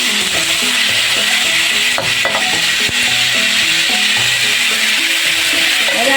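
Food sizzles steadily in a hot pan while a utensil stirs and scrapes, giving a continuous close frying hiss broken by occasional knocks and rubbing strokes, with no voices.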